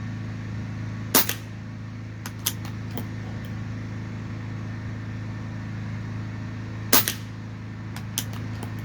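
Air rifle firing lead-free pellets, two sharp shots about six seconds apart, each followed by faint ticks and small impacts, over a steady low mechanical hum.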